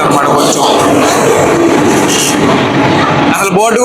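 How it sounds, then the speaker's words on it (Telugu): A midnight special train pulls into a station, a steady loud rumble and rolling rail noise filling the whole clip, with faint voices nearby. "సో ఇప్పుడే వచ్చింది మామ మన ట్రైన్."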